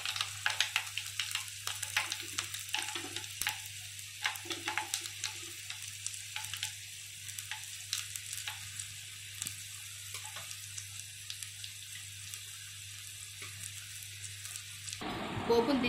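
Cumin and mustard seeds sizzle in hot oil for a tempering, a crackling, spitting fry with scattered pops over a steady low stove hum, fading after the heat is turned off.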